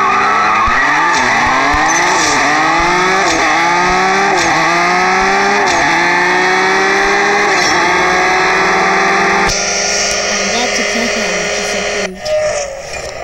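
An upgraded Lamborghini Centenario in a racing video game revs hard through repeated rising gear shifts, its engine whine climbing again and again before tires screech into a long skid near the end.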